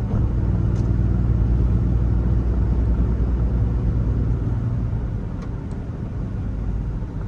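Ram 3500 Mega Cab 4x4 with a Cummins 6.7 diesel and six-speed manual cruising after a shift into sixth, its steady low engine and road rumble loud and continuous from inside the cab, with no talk.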